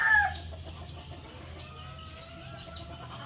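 Chickens cluck softly in the background while a rooster crows a few times at a distance, the calls coming in short repeated bursts.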